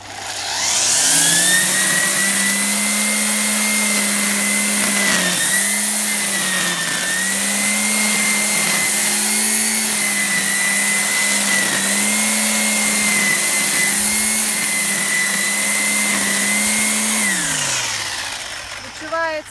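A Mächtz MEB-2100 D electric garden trimmer cutting grass whines loudly with a steady motor tone that dips briefly as it bites into growth, then spins down and stops near the end.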